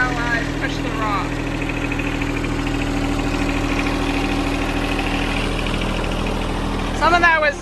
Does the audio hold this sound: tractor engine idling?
yes